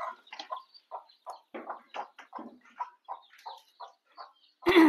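A mother hen that has hatched chicks clucks in a steady run of short, close calls, ending with a sudden louder sound.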